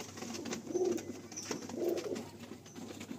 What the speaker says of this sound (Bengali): এটাও অন্ধ্রা পায়রা আছে